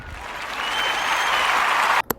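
Steady applause from a lecture audience fills the room for about two seconds, a dense, even wash of clapping that cuts off abruptly, followed by a brief sharp knock.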